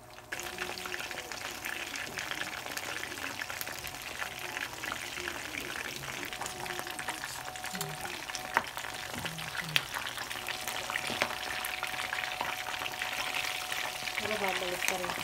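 Pork belly liempo fries in a pan, a close crackling sizzle with sputtering pops running steadily throughout, fairly quiet, with occasional faint scrapes and a couple of sharper spits.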